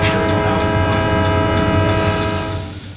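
A GBW railroad train hauled by Alco locomotives rumbles past close by with a heavy, continuous engine drone, and a steady horn blast sounds throughout before the noise eases off at the end.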